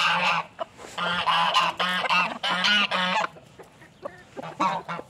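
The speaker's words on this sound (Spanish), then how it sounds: "¡Ocas!" Loud, repeated goose honking from several birds close by at feeding time, harsh nasal calls in quick bursts, with a short lull before more honks near the end.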